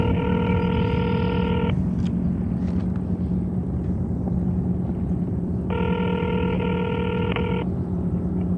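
Two long electronic telephone rings separated by a gap, heard from a phone held outdoors on a kayak trip over steady wind and water noise.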